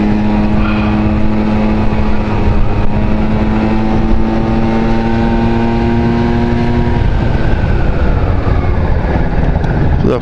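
A Honda Dio 27 scooter engine drones loudly and close up during a ride, its pitch shifting as the rider eases the throttle on and off.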